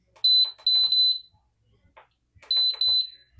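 Sharp, high electronic beeps from an electric pressure cooker's buttons sound in two quick pairs, separated by a short pause with faint clicks and rustling between them.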